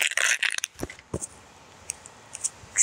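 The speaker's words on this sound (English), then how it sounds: "I'm going through my markers to see if I can find them." Alcohol markers are rummaged through in a box, giving plastic clicks, clatters and small rattling knocks in irregular bursts, with quiet gaps between them and no voice.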